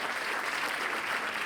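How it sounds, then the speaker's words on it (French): An audience at the Pierres d'Or 2026 ceremony applauds the jury president, a steady, even wash of clapping from many hands filling the whole moment. "Applaudissez-le."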